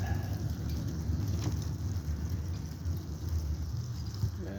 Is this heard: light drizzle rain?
yes